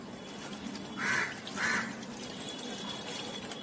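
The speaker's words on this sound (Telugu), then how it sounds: "ఒకసారి వాటర్ పోసుకున్నాము" Soft pouring of water onto a potted adenium plant, a couple of brief splashy bursts over a steady quiet background, no talking.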